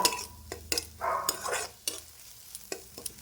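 Garlic frying in a pan while being stirred, a bright sizzle broken by repeated spatula scrapes and clinks against the metal, close and clear.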